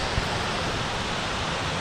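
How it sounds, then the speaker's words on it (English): A massive, tall, powerful waterfall in Iceland throws up mist, heard as a steady, dense, loud roar of rushing water with no break and no voices. "The waterfall. Oh, yeah. Big, like massive. Very tall, powerful."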